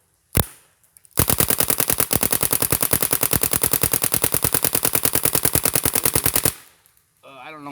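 One opening shot, then a paintball marker fed by a Dye Rotor loader fires a rapid, even stream of shots for about five seconds, loud and close. A voice follows at the end.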